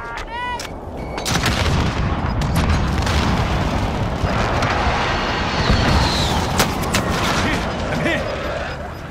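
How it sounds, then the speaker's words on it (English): Sustained hostile gunfire and explosive booms in the Warzone video game, loud and dense bursts continuing for several seconds, with faint voices underneath. "Receiving hostile fire."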